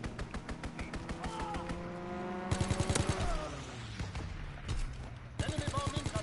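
Aircraft strafing run in a hardcore WWII multiplayer shooter: bursts of rapid machine-gun fire crackle over a droning engine roar, pausing briefly before a second loud volley rattles in near and heavy.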